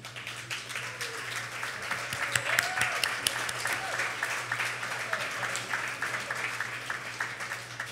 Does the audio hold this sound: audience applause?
yes